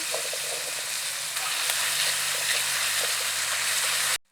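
Thin slices sizzle and fry in ghee for chicken ghee roast, a steady, fairly loud crackling hiss with occasional stirring, ending abruptly.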